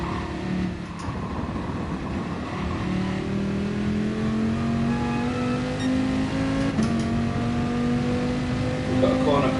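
A car hurtles at around 150 mph on the Nurburgring in the dark, its engine a loud, steady high-revving drone that climbs slowly in pitch as it accelerates, heard from inside the cabin with a driver talking over it.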